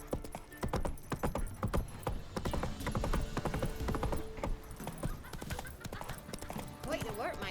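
A horse gallops in The Witcher 3, its rapid, loud hoofbeats clopping in a steady rhythm, with a whinny near the end and voices talking over the hooves.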